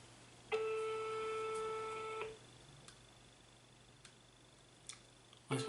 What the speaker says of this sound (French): Ça sonne. Première sonnerie,